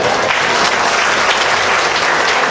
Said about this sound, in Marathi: ज्यांच्यासाठी पुन्हा एकदा टाळ्या वाजवल्या पाहिजेत